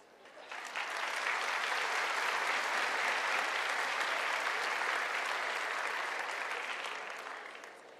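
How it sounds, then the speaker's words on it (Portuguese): Sustained applause from a large seated audience at a talk by Augusto Cury, swelling in over the first second, holding steady and dense for several seconds, then tapering off at the end. "Gostaria que vocês se aplaudissem."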